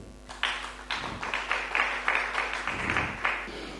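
A church congregation claps and acclaims in a steady rhythmic beat, bright hand claps landing roughly twice a second over a low background hum, with faint voices mixed in.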